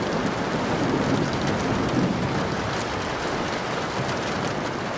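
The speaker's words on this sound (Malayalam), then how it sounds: "ഗൾഫ് നാടുകളിൽ കനത്ത മഴയാണ്." Heavy rain pouring in the Gulf region including the UAE, a dense continuous hiss of downpour at steady loudness with no voices.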